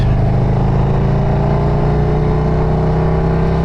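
A warmed-up Harley-Davidson motorcycle with a Stage III 122 kit engine idles and revs, a loud, close, deep rumbling exhaust held steady throughout.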